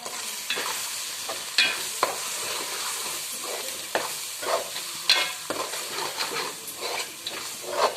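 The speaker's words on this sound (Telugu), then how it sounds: "అలా వేగుతూ ఉంటే కొంచెం కారం వేగిన తర్వాత ఇలా వేగాలన్నమాట." Chili powder sizzling in hot oil for a fish curry, a steady frying hiss with intermittent scraping stirs of a spoon across the pan, fairly close and with no talking.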